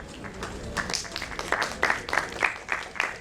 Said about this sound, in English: A big round of applause for sir.